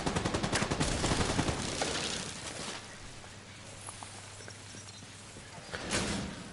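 Gunfire in The Division 2: a dense, rapid burst of shots for about three seconds, then quieter scattered pops and a brief flare of fire near the end.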